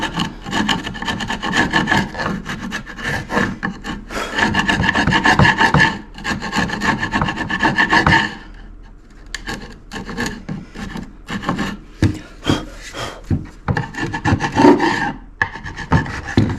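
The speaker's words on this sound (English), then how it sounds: "I'm going to clean this up so it sits nice on there. Get a chisel." Wood being pared and scraped with a chisel to tidy up a bird house lamp, a steady run of rasping, rubbing strokes close by with brief pauses between bursts.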